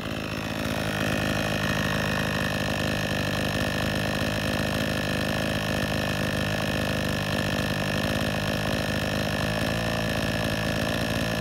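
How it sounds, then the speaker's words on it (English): A small 52cc two-stroke Chinese clone chainsaw engine, running lean, idles steadily and loudly up close, a continuous buzzing drone with no other sounds. "check the RPM of the engine and see what it's idling at."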